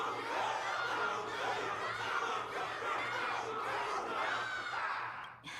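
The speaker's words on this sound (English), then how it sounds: "Can't you hear? Everyone's cheering for you, Luca." Crowd in the video game Zenless Zone Zero chanting and cheering together, a dense, steady roar of many voices with a low hum beneath, continuous and loud throughout.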